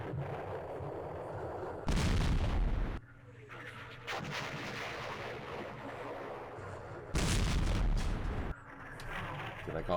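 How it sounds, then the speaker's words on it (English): In the Campaign Series Vietnam war game a flare is fired at night: two loud, booming bursts about six seconds apart over a continuous rumbling battle bed. "Let's try shooting a flare first."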